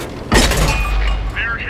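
A tank shell striking an enemy tank in World of Tanks, a sudden loud crack and boom followed by a rumbling decay and faint metallic ringing, brief and close.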